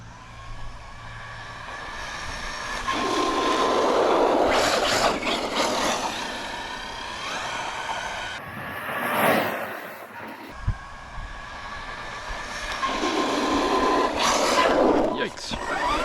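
An ARRMA Mojave RC desert truck whines past at speed, its motor pitch climbing and falling over two passes, with wind buffeting in the middle and a brief thump.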